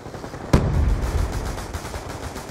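Gunfire from a burst-fire weapon in the Black Ops 2 video game: a sharp loud shot followed by rumbling, sustained game noise with no speech.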